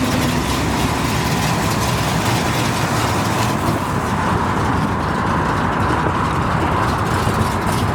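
A matching-numbers 400 V8 in a 1968 Pontiac GTO with aftermarket headers runs steadily at idle, a loud, continuous low rumble with a dense, rough exhaust tone and no talking.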